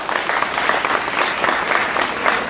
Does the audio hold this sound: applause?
yes